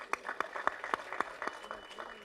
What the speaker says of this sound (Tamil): நல்ல பலத்த கரகோஷம்.